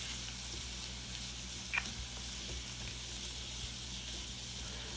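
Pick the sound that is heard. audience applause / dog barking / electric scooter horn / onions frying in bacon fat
onions frying in bacon fat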